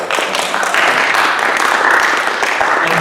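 An audience claps after a horror film Q&A with the director and actor, steady dense applause in a room that holds strong for a few seconds.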